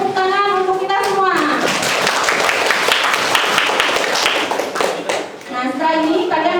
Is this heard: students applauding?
yes